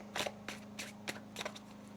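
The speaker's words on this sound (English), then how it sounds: "One more shuffle." Tarot cards being shuffled by hand, a run of five or six quick riffling bursts at an uneven rhythm, close and fairly crisp over a low steady hum.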